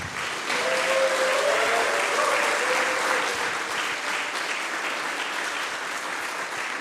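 A conference audience claps loudly and steadily after a talk on game localisation at AdventureX 2023. The dense applause fills the whole stretch alone and tapers only slightly near the end.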